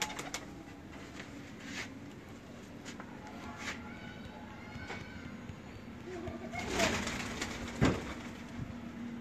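Soft, low cooing from Firozpuri pigeons drifts in and out over a faint background hum, with a couple of louder rustles near the end.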